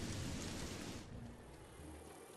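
Steady rain in the video game Don't Starve, hissing across a broad band, loud at first and then easing slightly after a second, with no voices.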